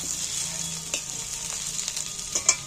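Taro and yardlong beans sizzle steadily in a hot pan, with occasional stirring scrapes and a louder clack near the end.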